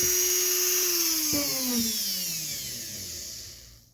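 Dremel rotary tool spinning a buffing wheel against a vintage Luxor Pezon Michel spinning fishing reel, a steady high whine whose pitch sags as it bears down on the chromed metal, then winds down and fades near the end, with no talking.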